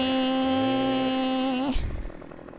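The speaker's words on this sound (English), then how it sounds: "Got our chainsaw out." Chainsaw in Farming Simulator 2015, a steady, loud engine drone held near the listener for about a second and a half, then cutting off abruptly into a short low rumble that fades away.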